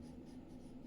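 Pen or pencil writing by hand during a classroom-style lecture, a soft continuous scratching that stays faint and steady throughout, with no speech over it.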